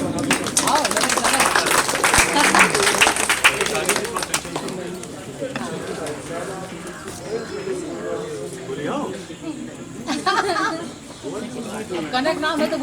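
An audience at a stage show claps briskly for the first few seconds, then the applause fades out as someone speaks into a microphone for the rest of the stretch.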